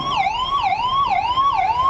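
An ambulance siren wails loudly and steadily through a repeating rising-and-falling sweep, several cycles in quick succession, during a police demonstration drill for an election counting day in Andhra Pradesh.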